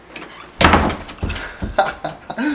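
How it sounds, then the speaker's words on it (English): A bedroom door in a house is pushed shut and locked, giving a few solid, close thuds and clunks with rattling handling noise between them, with no talking. "Now, I'm gonna lock the door"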